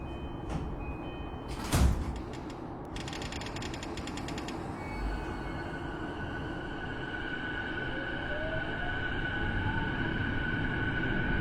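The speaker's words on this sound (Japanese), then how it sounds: "2番線ドアが閉まります。" Train doors slide shut with a brief chime and a thud in the BVE5 simulator on the JR Negishi Line. A low rumble of the standing train follows, then a rising electric motor whine as it starts moving.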